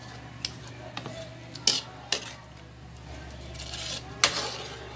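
Macaroni is stirred in a pot, a few sharp utensil clinks and scrapes against the metal spread over a soft background hiss, close and fairly quiet, with no talking.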